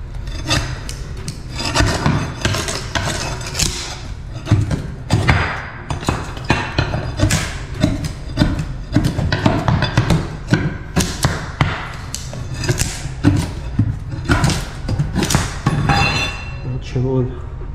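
Old carpet edge strips of wood, studded with nails, being pried up from a floor, giving repeated thumps, scrapes and creaks throughout, fairly close, with some talk mixed in.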